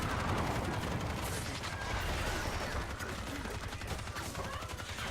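A sentry gun in the video game Evolve Stage 2 fires a dense, unbroken barrage of rapid shots, the gunfire loud and continuous across the whole stretch.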